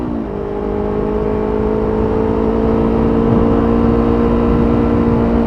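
A Yamaha R25 sport motorcycle with a vibrating body is ridden at a steady pace, its engine humming in a continuous, loud, even drone with a faint rise in pitch early on and no voices.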